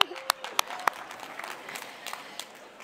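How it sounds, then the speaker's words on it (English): An audience claps after a presentation, a short burst of scattered clapping with a few sharp claps standing out, fading over about three seconds. "All right, big round of applause for Jeepney."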